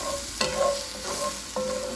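Mushrooms being stirred in a hot, lightly oiled pan on a lowered flame, a steady close sizzle broken by two sharp utensil scrapes and clinks against the pan.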